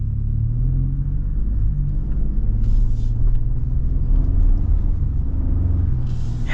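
A 2024 Ford Expedition XLT full-size SUV on the move, its steady low engine and road rumble droning continuously from inside the cabin with a couple of faint higher hisses.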